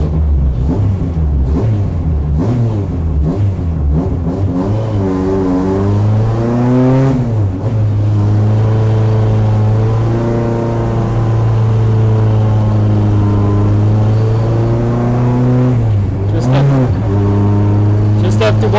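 A front-wheel-drive race car rolls through the pit lane on its out lap, its engine holding a steady, close droning note with revs climbing and dipping around a couple of gear changes.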